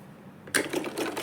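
A sewing machine stitches fabric along a curved round neckline, starting abruptly after a quiet moment and running in a close, steady clatter with slight bursts and pauses.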